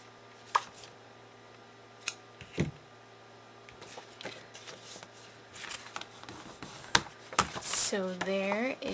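Paper being trimmed during envelope mini album crafting, a few short crisp snips and slicing strokes scattered through the quiet, with some soft handling noises and a brief voice toward the end.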